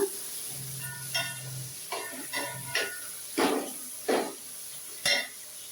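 Onion and tomato cook quietly in a pan for prawn biryani, with a soft sizzle beneath about seven distinct spatula scrapes at an uneven rhythm; nobody speaks.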